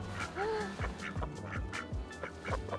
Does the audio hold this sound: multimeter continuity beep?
no